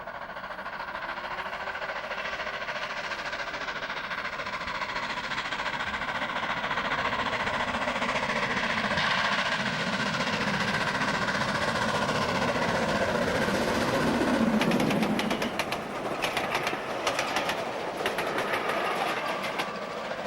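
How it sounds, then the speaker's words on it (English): A Black 5 steam locomotive heading a mail train rumbles steadily through a station at speed on the Great Central Railway, a continuous roar with rhythmic clatter of wheels on rails building toward the end. "the Black 5 heading the mail train as it steams through Cornham Woodhouse Station at speed"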